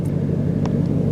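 A 1995 Chevrolet Caprice wagon's LT1 V8 idles in neutral while still warming up, a steady low rumble close by with a faint high tick now and then.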